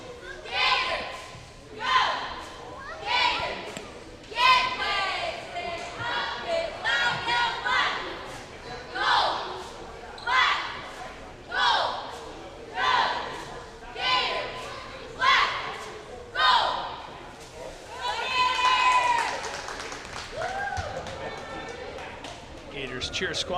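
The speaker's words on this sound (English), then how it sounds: "Cheer squad trying to will the crowd" A cheer squad at a high school girls' basketball game rousing the home crowd in a gym: loud rhythmic chanted calls repeat about every second and a half, sustained for over twenty seconds.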